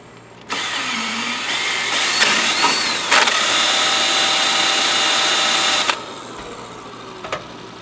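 A 1958 Volkswagen Beetle engine with a weak battery cranks and catches, running loudly and steadily for several seconds with a whining buzz before cutting off, followed by quiet.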